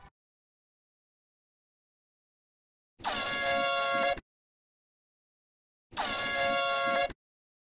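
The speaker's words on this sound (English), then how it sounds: "Airhorn in my house" An airhorn sound effect blares twice, each blast about a second long, loud and brassy, separated by roughly two seconds of silence.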